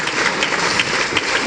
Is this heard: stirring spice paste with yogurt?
no